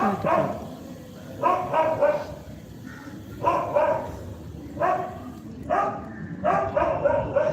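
A nearby dog barks repeatedly in short bursts of two or three, with brief pauses between the volleys.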